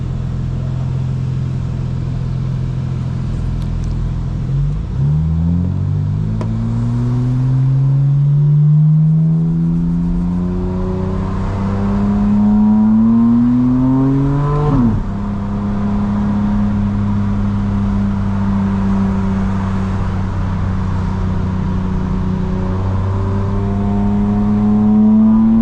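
A 2025 BMW M4 CS tuned to 900 hp, close and loud, drones steadily, then its engine climbs in a rising rev, drops sharply on the first-gear downshift and settles back into a strong, even hum, with no talking.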